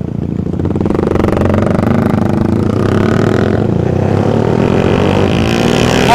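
Several motorcycles at a Sunday-morning group ride rev their engines together, a loud, continuous roar of rising and falling throttle blips close by with no voices over it.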